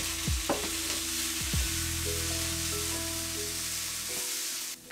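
Bison meat and juniper hitting a hot pan, a steady loud sizzle with stirring scrapes and a couple of sharp clatters at the start, no talking.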